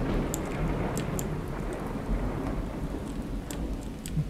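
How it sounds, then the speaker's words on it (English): Steady rain pours in the survival video game Miscreated, a dense, even hiss with occasional sharp crackles and low rumbles of thunder, heard alone with no voices. "It's raining in this building!"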